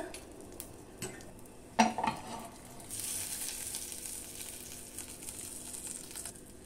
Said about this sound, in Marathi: आता ही फोडणी घालायची आहे आपल्याला चटणीवर.